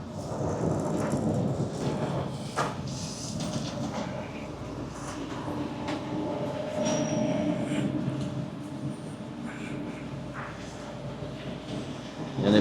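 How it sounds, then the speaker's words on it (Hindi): An airport shuttle train running toward the main terminal, a steady rumbling rail roar with faint wheel squeals and rattles, sustained and fairly loud throughout with no talk. "चलने के बाद में ऐसी ट्रेन आती है, वो ट्रेन में यहाँ बैठ के मेन टर्मिनल तक आने का रहता अपने को।"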